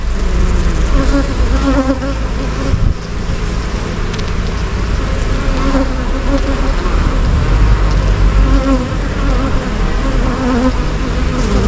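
Honeybees swarm around an open hive while some carry loads of orange and yellow pollen on their legs, making a dense, steady buzz that stays close and unbroken throughout.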